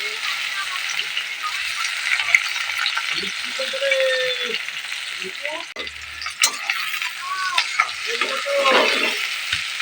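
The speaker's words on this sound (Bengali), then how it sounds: "মশলাটা কষবো সেজন্য কড়াইয়ে দিয়ে দিচ্ছি তেল" Oil sizzles steadily in a wok, a close, continuous hiss for frying spice paste, with occasional clinks and a voice speaking intermittently underneath.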